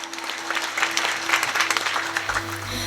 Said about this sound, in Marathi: एकदा आमच्या ताईंसाठी जोरदार टाळ्या वाजवा